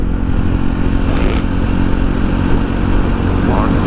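A Jawa motorcycle hums along a highway on a morning ride, its steady engine drone loud and close under constant wind rush.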